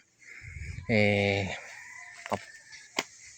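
Near a backyard chicken area on a heritage poultry farm, a hen gives a short loud squawk followed by a few soft clucks, with faint chatter from other fowl in the background.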